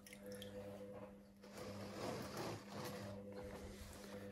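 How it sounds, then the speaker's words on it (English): A washing machine running nearby indoors, a steady mechanical hum with sloshing and swishing water that swells and falls. "Sorry about the washing machine noise."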